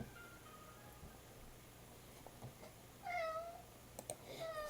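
A house cat meows a few times indoors, the drawn-out calls rising out of a steady background hum, moderately close and fairly soft.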